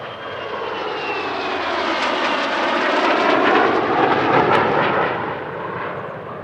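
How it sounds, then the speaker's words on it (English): Two F-35 jets fly with an F8F Bearcat piston fighter at the California International Airshow 2023, giving a loud, steady engine roar that swells slightly as they pass and then eases off. "That F-35 is now joined by a second example, as well as an F8F Bearcat from Planes of Fame"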